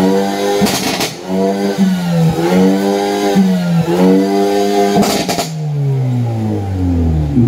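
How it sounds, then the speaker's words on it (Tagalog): Close-range revving of a tuned car engine, rising and falling through several strong throttle pulls, with crackling pops and bangs bursting from the exhaust between revs and no one talking. "Pops and Bangs, no?"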